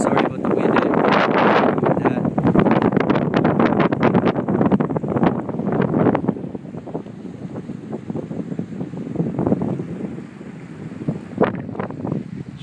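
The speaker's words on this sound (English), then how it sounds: "Really windy again. I'm sorry about the wind." Strong wind buffets the microphone outdoors near frozen ice fields, a loud continuous rumbling roar with gusty surges that ease somewhat in the second half.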